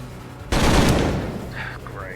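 Gunfire from Colony Ship: A Post-Earth RPG, a single loud burst of three rounds that decays into a faint ringing tail.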